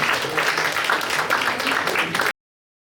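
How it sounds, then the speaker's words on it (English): A small audience at a Cloud Native tech meetup in Kuala Lumpur claps briefly for about two seconds before the sound cuts to silence. "lot of applause for contributing"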